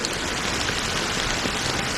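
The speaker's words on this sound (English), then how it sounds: "But it's still raining." Steady heavy rain pours down in the Penacony story of a video game, a dense, continuous hiss of drops on surfaces with no break and no voices.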